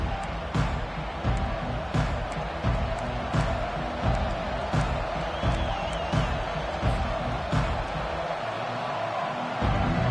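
A stadium crowd roars in the college football video game NCAA 25 at an Auburn game, a steady wash of cheering with occasional whoops and sharp accents, a little distant and continuous.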